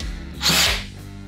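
A Mollar CID20500-U 13 mm cordless impact drill spins briefly in drill mode, giving a short rising and falling whir at close range.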